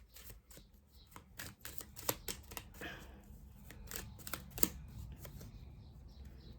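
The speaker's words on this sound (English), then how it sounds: "I'm just going to pull you a soul expression card, Pauline." Soul expression oracle cards shuffled by hand in a psychic reading, a quiet run of soft riffling flicks and taps with a few sharper snaps, close and alone without talk.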